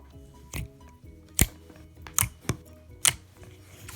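Big green clicky slime being squeezed and pressed, giving a handful of sharp, separate clicking pops spaced irregularly, close up and fairly quiet.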